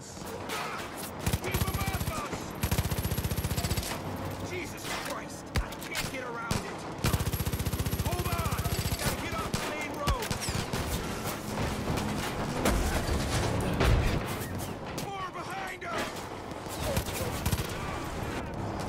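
Micro Uzi gunfire in Far Cry 5, rapid bursts of automatic fire coming in repeated loud volleys over most of the stretch, with someone talking at times.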